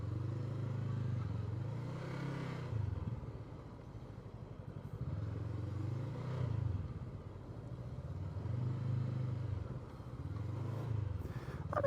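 A 2021 Voge 500AC motorcycle rides at slow speed with a low engine drone that swells and eases in repeated waves, heard up close without talk.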